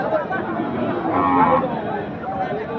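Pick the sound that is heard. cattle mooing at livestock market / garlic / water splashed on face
cattle mooing at livestock market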